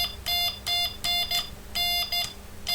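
A Minelab Tx-i Plus or Txi-D metal detector gives five slow electronic beeps in an even rhythm, each a bright tone about a third of a second long.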